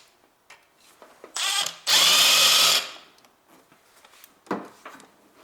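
A power tool spins out a 10mm bolt on the engine of a 1.8 R18A1 Honda Civic, two loud whirring bursts close by, with clanking handling sounds before and after.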